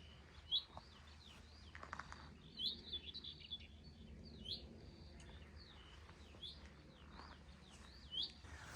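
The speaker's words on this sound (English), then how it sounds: "You hear the bird song?" Countryside birdsong on a high chalk ridge with hawthorn and elderflower, near Barbury Castle: repeated bright chirps and short whistled phrases at moderate distance, recurring every second or two over a soft steady outdoor hush.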